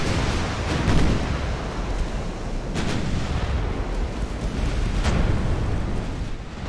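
Distant naval gunfire from Ultimate Admiral: Dreadnaughts, ships trading salvos at maximum range: a continuous rumbling roar punctuated by a few sharp booming reports, with no talk.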